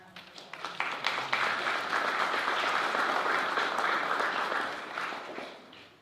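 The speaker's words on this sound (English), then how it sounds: "Let's give her a nice round of applause." Applause for a retiring teacher of 41 years at a school board meeting, starting with a few scattered claps and swelling into steady clapping from a room of people, then fading toward the end.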